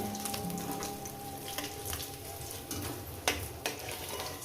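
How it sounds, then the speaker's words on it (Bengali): Rohu fish sizzles in hot oil with a steady crackling hiss, punctuated by a few sharper spits and pops, close up and without talk. "মাছগুলো একেবারে ভেজে নিচ্ছি"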